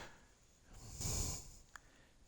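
A single breathy pig snort rises and fades in the video game Farming Simulator 22, with a short sharp click after it, over a quiet hiss and no talk.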